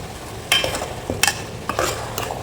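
Salted potato and cabbage, seasoned with rock salt, are stirred in a pan: four or five distinct scraping strokes of a spoon over a faint background sizzle.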